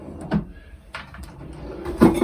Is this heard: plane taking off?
no